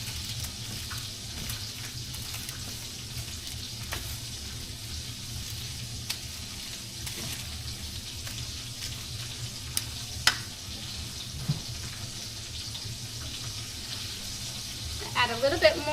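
Vegetables sizzle and fry in a pan with garlic, a steady crackling hiss close by, with occasional scrapes and clicks as they are tossed, plus a brief clatter near the end.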